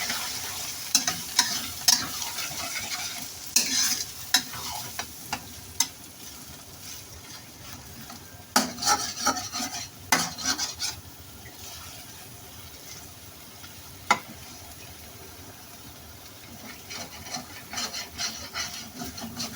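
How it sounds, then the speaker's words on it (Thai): Eggs are stirred through oil in a pan while cooking Thai stir-fried preserved radish with egg, giving a steady quiet scraping and sizzle with scattered clicks and knocks of the utensil against the pan. "วิธีที่พี่เอาไข่ลงไปคนในน้ำมันเนี่ยมันจะช่วยทำให้ไข่เรานุ่มขึ้นนะคะ"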